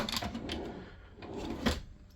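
A latched drawer on a Beneteau Oceanis 60 sailing yacht being slid open or shut, giving a few light wooden knocks and clicks with a sharper latch snap near the end, close by and fairly quiet, no talking.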